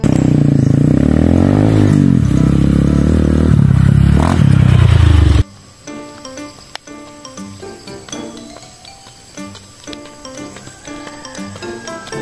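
A loud motorcycle engine roars and revs for several seconds, then cuts off abruptly into quieter clattering and tapping sounds.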